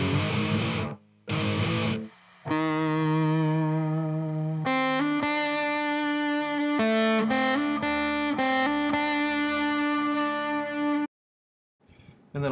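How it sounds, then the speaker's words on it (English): Distorted electric guitar parts from a song's second chorus into the solo, layered with chorus effect, sustained harmonic chords and rhythmic stabs, loud and continuous with short pauses and no talking. "snippet of the guitars from the second chorus into the guitar solo. Just some of the effects that I use."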